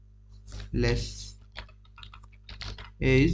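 Keystrokes on a computer keyboard while C++ code is corrected, a quick clatter of clicks running steadily under a person talking nearby.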